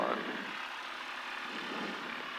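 A Beechcraft BE76 Duchess twin-engine airplane taxis at night, its engines making a low, steady, fairly faint drone with no distinct changes.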